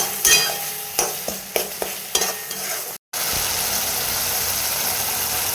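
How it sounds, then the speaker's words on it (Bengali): Spice paste for a fish curry fries in a pan and is stirred, with a steady loud sizzle, repeated scraping strokes of the spoon, and a brief cut of silence partway through. "এবার দেখো পেস্ট করে রাখা মশলাটা দিয়ে দিচ্ছি। ভালোভাবে কষিয়ে নেব।"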